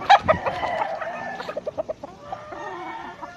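Hens clucking in quick rhythmic bursts alongside a rooster's crow among inbred breeding chickens, close and clear with no talk.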